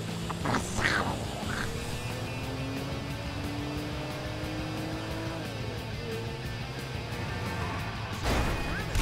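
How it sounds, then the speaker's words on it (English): A cartoonish duck quack in Grand Theft Auto V rings out near the start over a steady electronic game background, with a brief burst again near the end. "Should I hear Donald Duck?"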